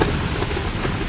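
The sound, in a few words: storm with rain and thunder, horror story sound effect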